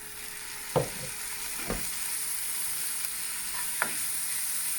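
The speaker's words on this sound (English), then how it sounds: "In go the spices." Spices and potatoes fry in a pan for a cheese and potato pie, with a constant soft sizzle and a few sharp clacks from the stirring spoon, close by, and nobody speaking.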